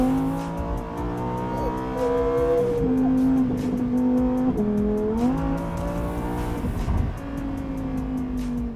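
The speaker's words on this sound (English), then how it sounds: "This is how the Huracan Tecnica sounds." Lamborghini Huracan Tecnica's engine roars steadily from inside the moving car, its pitch dropping and climbing through gear changes with loud, continuous revving and no talk.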